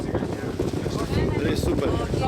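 Gusty outdoor wind buffets the microphone in a steady low rumble, with faint voices and background activity at a sports event mixed underneath.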